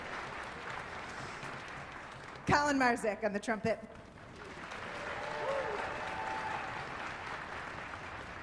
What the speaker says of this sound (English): That's okay, clap for him.